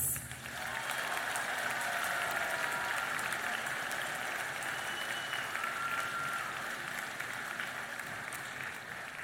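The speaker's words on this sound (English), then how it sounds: "One more round of applause." Sustained audience applause at a community college commencement ceremony, a broad, even roar of many hands clapping in a large hall, holding steady for several seconds without talk.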